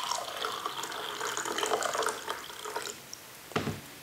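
Hot water runs steadily into a measuring cup in a home kitchen, a close, continuous splashing pour that tapers off near the end, with a brief clink afterward.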